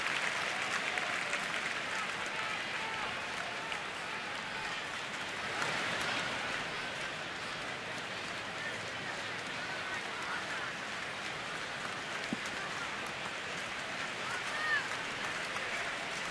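Baseball stadium crowd cheering during a sixth-inning game between Miami and Washington, a broad, steady roar of distant voices and clapping that holds for the whole stretch with faint commentary beneath.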